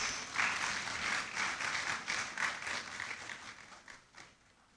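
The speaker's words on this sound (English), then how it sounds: "Let's please welcome him with a round of applause" Audience at a university inaugural lecture gives a round of applause, a fairly faint, dense wash of clapping that holds steady and slowly fades toward the end.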